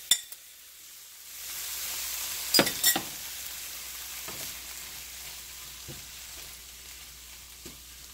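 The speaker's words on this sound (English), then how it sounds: "You want to hear that sizzle when you put it in." Cod and herbs hit a hot pan with a sudden hiss, settling into a steady sizzle punctuated by occasional scrapes and clinks of stirring.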